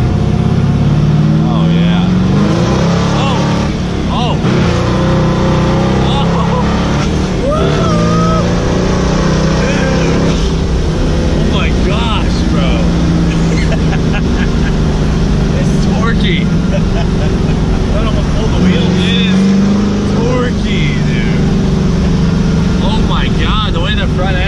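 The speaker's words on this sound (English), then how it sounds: "It sounds just like your Duramax." A diesel street-legal NASCAR truck engine runs as a loud, steady low rumble that swells and eases, heard from inside the cab with people talking over it throughout.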